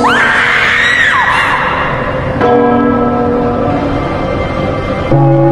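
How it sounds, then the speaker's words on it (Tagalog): A loud bell tolls for the dead with long ringing overtones, struck again at intervals, each stroke resonating and overlapping the last. "Bakit ganyan tunog ng kampana?"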